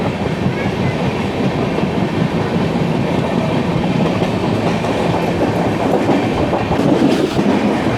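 A passenger train hauled by a WDP-4 diesel locomotive runs through Ernakulam Town station without stopping, its loud, steady rumble and rhythmic wheel clatter continuous from inside the coach, with no one speaking.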